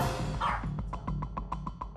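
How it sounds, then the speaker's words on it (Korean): A small dog guarding its ill owner barks repeatedly indoors at relatives getting up to leave, with around nine sharp, evenly spaced barks over a low room hum and no talk. "친척들이 돌아가려고 일어서자 갑자기 짖어대기 시작하는"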